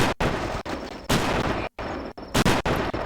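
Rapid bursts of video game gunfire in close succession, loud and near, with short gaps between volleys and no talk over them.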